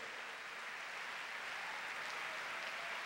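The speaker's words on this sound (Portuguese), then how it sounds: "Você pode dar uma salva de palmas ao Senhor." A church congregation claps for several seconds in a steady, dense wash of applause, fairly distant and even, with no clear voice over it.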